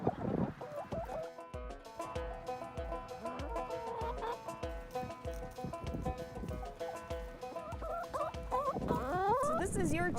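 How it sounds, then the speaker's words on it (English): Chickens clucking inside a large backyard chicken coop, repeated close calls over a steady rhythm of soft low thumps. "So this is your chicken coop,"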